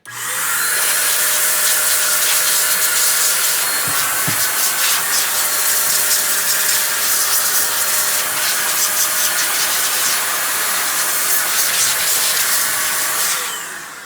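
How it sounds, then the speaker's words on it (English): A compressed air duster blows dust off Game Boy handhelds, a loud, steady, close hiss that runs nearly unbroken for over ten seconds. "I'm going to use this duster here, and it's going to blow stuff everywhere"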